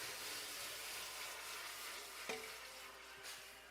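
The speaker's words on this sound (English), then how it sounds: "We need to clean off the fond as much as possible because we are not making gravy, right?" Quiet sizzling from a hot pan after cooking burgers, a steady frying hiss with one brief scrape and a couple of faint knocks as the fond is cleared from the surface.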